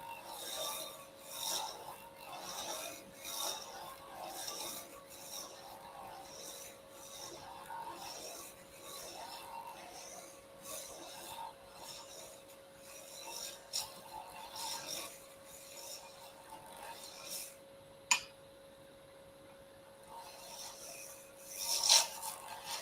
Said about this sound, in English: with some sandpaper and smooth it all out with like a 220 grit